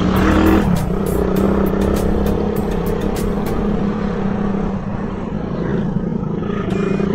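A Suzuki Raider 150 motorcycle engine accelerates, producing a loud, close, steady droning roar with a strong low hum that holds almost unchanged throughout.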